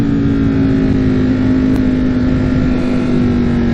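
A 2021 Ducati Streetfighter V4S motorcycle with an Akrapovic exhaust holds a loud, steady high-rpm engine drone throughout, heard up close with wind rush and no talking.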